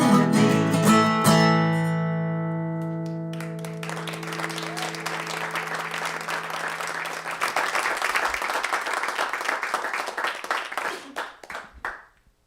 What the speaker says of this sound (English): let's give another round of applause for Robin Hopper